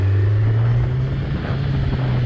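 A Kawasaki Z900 motorcycle engine runs with a loud, steady, low droning rumble held close and continuous throughout, with no talking over it.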